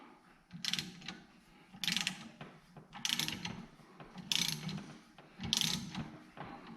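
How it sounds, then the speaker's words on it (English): Ratchet and 7/16 socket clicking in repeated bursts while tightening the fitting on a brake line flare tool, close and fairly loud, with no speech. "So I can use a 7/16 socket now to turn that."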